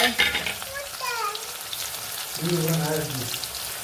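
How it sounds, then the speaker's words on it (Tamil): Small shallots hit hot oil already sizzling with fennel seeds and curry leaves for lemon rice, frying in a close, steady crackle with stirring, while a voice talks over it. "ஆயில் காஞ்சிருச்சு. அதில் சோம்பு கருவேப்பிலை போட்டாச்சு, இருந்துச்சு. இப்போ நம்ம நறுக்கி வச்சுருக்க சின்ன வெங்காயம்"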